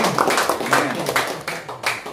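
Loud group clapping for the Lord at a Filipino men's cell group meeting, a quick burst of claps that rises and falls over about two seconds, with voices mixed in.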